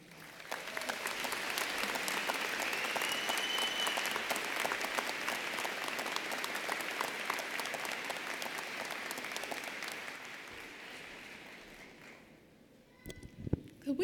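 Sustained audience applause at a university social work spring commencement ceremony, a dense wash of clapping from a large crowd that holds steady for about twelve seconds, then fades out as a voice begins to speak.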